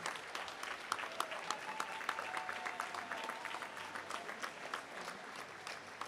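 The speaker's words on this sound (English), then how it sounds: "Big old round of applause for Ruby Brace." An audience applauds a young volunteer award winner at a regional short course swimming championship: a dense, steady patter of clapping from a crowd in a large reverberant hall, sustained throughout and fairly distant.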